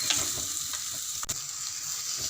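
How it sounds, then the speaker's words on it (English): Carrot and spices with turmeric frying in a pan, stirred steadily, giving a continuous close sizzle with scraping strokes and one sharp knock partway through. "Then we will add the carrot and nicely mix well."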